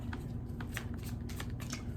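Tarot cards shuffled up close in quick, riffling bursts during a tarot reading, a steady low hum running underneath.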